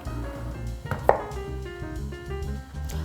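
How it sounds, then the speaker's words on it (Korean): A knife chops cauliflower into bite-size pieces on a cutting board, giving a run of close, crisp cutting taps with one sharper thud near the middle and a few lighter cuts following. No voices are heard. "한 번 더 먹기 좋은 크기로 잘라줍니다"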